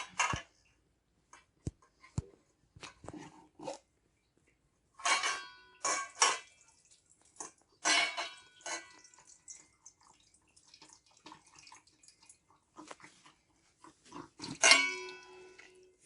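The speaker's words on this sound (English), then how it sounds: "we're going to strain the buttermilk off" Buttermilk from homemade butter being strained off, a liquid pouring and splashing in scattered bursts, with clinking of a container and drips between louder pours, fairly close, no talk.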